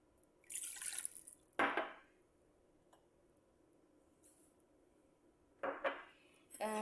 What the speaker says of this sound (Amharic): መጀመሪያ እዚህ ስኳሩንና ውሃውን እንጨምራለን።